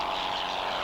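Pitts Special aerobatic propeller aircraft at an air show, a continuous buzzing propeller drone, loud and unbroken for the short moment.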